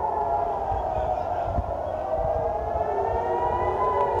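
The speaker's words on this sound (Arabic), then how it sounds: "كما نشاهد إياكم صفارات الإنذار إذن تنطلق" Air raid warning sirens wail continuously in Eilat, Israel, during rocket interceptions, rising and falling in long sustained tones over a steady background rumble.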